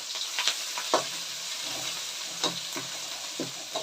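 Ginger garlic paste fries in oil over a low flame for a spinach and potato gravy, giving a soft, continuous sizzle with light clinks and stirring scrapes scattered throughout.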